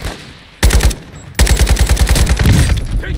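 Rapid automatic gunfire in Call of Duty Warzone 2 during a Fort Resurgence quads match, a short burst followed after a pause by a longer, loud sustained volley of rattling shots, heard alone without voices.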